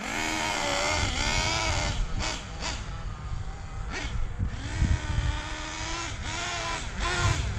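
A Hobao Hyper VS2 nitro RC buggy engine chugs during break-in, a loud buzzing two-stroke drone with wavering pitch that rises and dips as the throttle blips.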